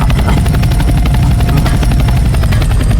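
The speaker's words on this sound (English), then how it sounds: "why am I able to, like, wiggle my helicopter?" A helicopter flying in a Roblox video game, its loud, close rotor chopping in a fast, steady rhythm over a constant engine drone with no pause.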